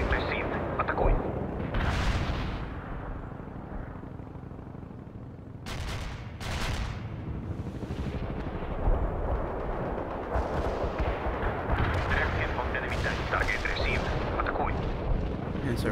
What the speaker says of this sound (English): We can deploy and lay down a heavy barrage.